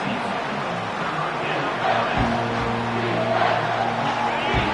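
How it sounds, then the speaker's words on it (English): A loud football stadium crowd roars during a third-down play, a dense, sustained wall of cheering that swells midway and stays high throughout, with low engine-like rumble beneath. "Third down, and this crowd is tearing the lid off this place."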